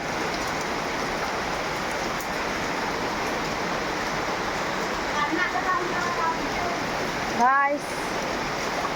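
Heavy rain roaring continuously in a thick, unbroken wash of sound, with a voice rising briefly near the end.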